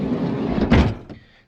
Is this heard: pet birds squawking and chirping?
no